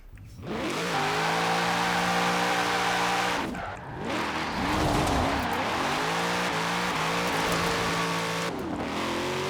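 A stock 2018 Chevrolet Camaro ZL1 in Forza Horizon 4 drifts with a loud, sustained engine drone and tire squeal, revs dipping and climbing through the slide, with no talking.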